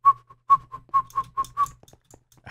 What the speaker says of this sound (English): I heard myself slightly whistle